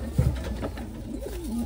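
A racing pigeon at a loft in Pangasinan coos softly, a short throaty burst near the start followed by low warbling coos against steady background hum, with no talking.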